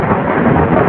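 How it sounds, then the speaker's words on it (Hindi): Deep, continuous rumble of thunder rolling across a stormy sky, loud and broad with no break, heard alone. "आसमान पर बादल गरज रहा था"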